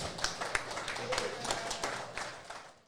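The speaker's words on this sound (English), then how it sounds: "A round of applause for a Parramatta legend, John Muggleton." Scattered hand claps from a small group, fairly faint, fading out toward the end.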